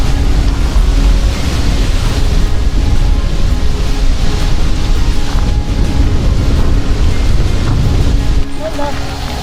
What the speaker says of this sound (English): I didn't expect it to be this windy out here.